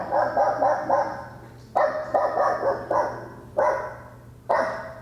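A dog barks outdoors near a church in quick bursts of several yaps, then spaced single barks, moderately loud against a steady low hum, with no voices.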